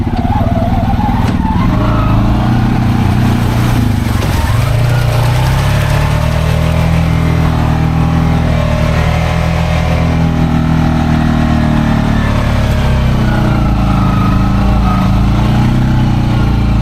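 A Honda Pioneer 500 UTV with a front locker climbs a steep step in second gear, its engine droning loud and close throughout with pitch rising and falling under load.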